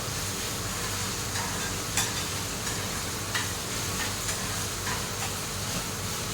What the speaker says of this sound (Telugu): తాలింపు బాగా ఫ్రై అవ్వాలి